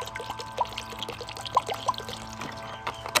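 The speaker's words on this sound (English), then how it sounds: "And then you're going to take your coconut water." Pressed coconut water poured from a carton into a glass, a close trickle with soft glugs and splashes.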